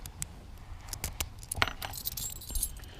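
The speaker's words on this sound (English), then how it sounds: "all these are the barrel keys" A ring of barrel keys jangles as it is sorted, giving bright, irregular metallic clinks and rattles in quick bursts, close and alone.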